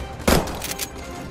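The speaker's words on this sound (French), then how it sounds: "On tire dessus par derrière." Gunfire in the post-apocalyptic battle royale game P.A.S Post Apocalyptic Show: a sudden loud burst of shots followed by a few quicker, fainter rounds, brief and alone.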